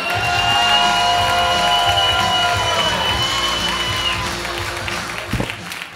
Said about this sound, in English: How about a big round of applause for James Wollschlager?